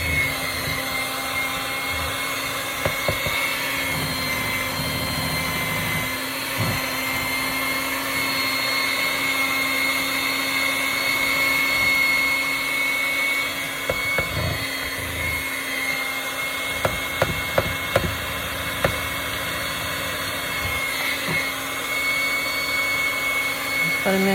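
An electric mixer whirs steadily while beating cheesecake batter, a continuous motor hum lasting throughout with occasional clicks and taps of the beaters against the bowl, with some quiet talking.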